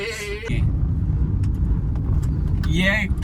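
A car driving on a road near Tirora and Gondia, its steady low engine and road rumble running continuously, with brief bleating-like voices and talk at the start and end.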